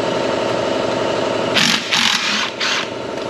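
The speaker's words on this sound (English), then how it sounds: "Let's fire up the compressor." An air compressor chugs steadily during work on a Lexus RX350 3.5, its rough mechanical drone running close and loud, cut by a few short bursts of hissing air near the end.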